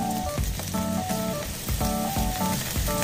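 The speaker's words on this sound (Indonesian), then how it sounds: "Saya pakai minyak coconut oil supaya lebih sehat ya. Lalu saya masukkan yang pertama tentu saja daun bawangnya dulu ya" Spring onions sauté in coconut oil in a pan, giving a steady close sizzle that runs the whole time under rhythmic background music.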